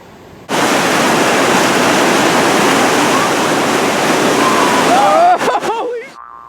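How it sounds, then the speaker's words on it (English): Loud, roaring whitewater of a class IV rapid on the Kennebec River rushes continuously, then breaks up into splashes and fades near the end, with a brief yell over the noise. "it creates a massive wave, massive crashing wave that can flip a boat pretty easy"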